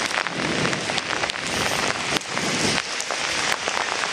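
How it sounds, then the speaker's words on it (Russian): Heavy rain pours down during a January thunderstorm in Anapa, a continuous loud hiss of drops on surfaces with fluctuating intensity and a few sharper splashes. No one speaks. "Дождь усиливается."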